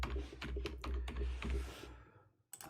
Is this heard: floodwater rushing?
no